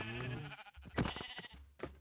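Sheep bleating in a video game, two or three short wavering bleats close by, clear and alone against a quiet background.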